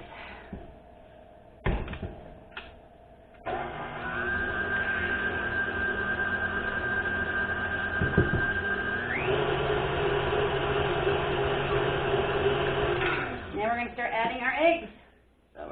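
Electric hand mixer whirring steadily through whoopie pie batter after vanilla goes in, running continuously and loud for about ten seconds, stepping up to a higher speed partway, then stopping amid kitchen clatter.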